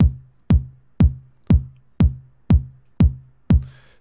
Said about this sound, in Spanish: el bombo original de Drumazón es un bombo 909, una recreación de la Roland clásica